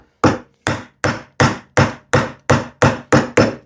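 Ten sharp, evenly spaced chops of a chisel struck with a mallet into wood during hand-tool woodworking, each a loud close impact with a quick decay, in a steady rhythm with no talking.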